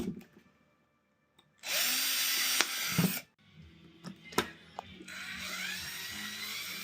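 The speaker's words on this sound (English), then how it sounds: "we're just gonna mark these points that I'm gonna drill." A power drill bores holes while building a workshop enclosure for a laser engraver and cutter, with a loud whirring burst, then clicks and handling noises, then another sustained run of drilling.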